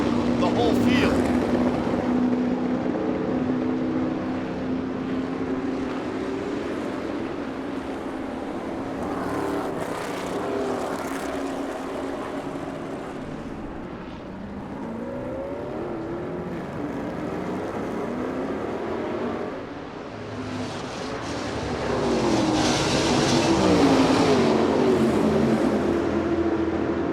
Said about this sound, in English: The shadow cars are just absolutely just flying around this racetrack and pulling away from the whole field.